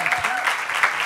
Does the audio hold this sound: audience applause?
yes